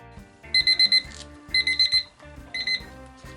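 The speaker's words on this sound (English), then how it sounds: "Okay, so we're setting our timer for 4 minutes." A kitchen timer alarm goes off during resin pouring, beeping in three quick bursts of four sharp electronic pulses each, loud and close, with no talk.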